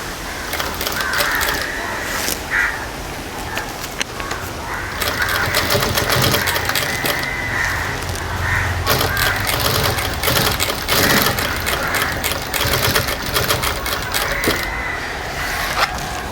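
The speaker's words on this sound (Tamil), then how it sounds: "இதை வந்து கடைசியிலே மடிச்சுட்டு ஒரு தையல் அடிச்சிடலாம்." Sewing machine stitching a jute sling bag: loud, continuous rapid mechanical clatter of the needle mechanism running in bursts with brief pauses, close up and without talk.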